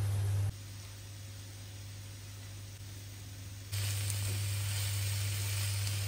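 Butter and garlic sizzle in a hot pan with a steady hiss that jumps noticeably louder partway through, continuous and close with no talking.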